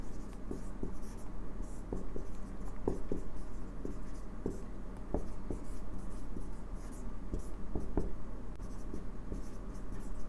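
Someone writes on a board in a classroom, and the strokes come as a run of short scratchy taps and drags in an uneven rhythm over a low, constant room hum.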